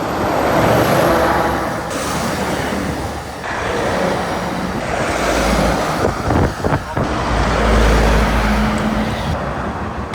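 Noisy vehicles pass along a road-side bike path in Taiwan, a loud, continuous engine roar that swells and fades, heavily mixed with wind buffeting on the microphone.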